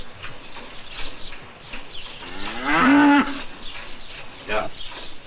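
Cows on an Italian family farm moo in one long, loud, tonal call near the middle, with fainter lowing and farm noise around it.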